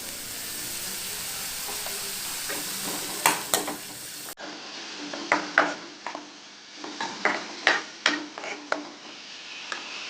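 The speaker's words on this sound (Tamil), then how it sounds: "பெரிய வெங்காயம் வதக்கிக்கலாம்" Onions saute in a pan with a soft sizzle beneath repeated sharp scrapes and clinks of a spoon stirring them, the clatter coming in quick irregular bursts.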